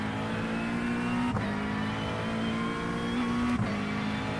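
GT3 race car in the iRacing simulator, its engine holding a loud, steady high-revving drone with two quick dips in pitch at gear shifts, close and continuous without talking.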